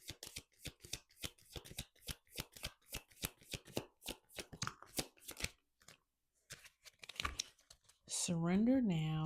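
Animal oracle cards being shuffled in a quick, steady run of crisp riffling bursts up close, followed by a short pause and a brief spoken phrase at the end.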